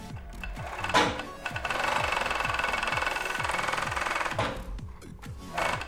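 An overlock serger, freshly calibrated and threaded in navy blue, runs in fast rhythmic bursts, its needle and knife action making a rapid mechanical chatter that starts and stops a few times and stays close and clear.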